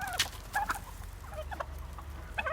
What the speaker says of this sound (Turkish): Hindi bana saldırmaya kalkışıyor şu anda.